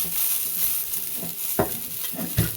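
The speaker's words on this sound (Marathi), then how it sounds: "थोडस तेल टाकलं ना भाजती चांगली मिरची" Green chillies roasting in a little oil in a pan, a gentle continuous sizzle with a few scraping stir strokes, close and fairly quiet.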